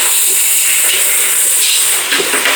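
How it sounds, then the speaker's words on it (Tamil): Onions sautéing quickly with salt in a pan for a biryani, giving a steady, bright hiss that fills the short stretch with faint scraping near the end. "வெங்காயமும் கொஞ்சம் குயிக்காக வதங்கிடும்."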